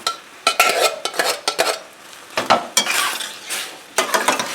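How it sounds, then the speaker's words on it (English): Tomatoes go into a pot of cooked vegetables for wild rice soup and are stirred in, giving irregular bursts of scraping and clinking with a soft sizzle between strokes, close and clear. "We're going to add our tomatoes."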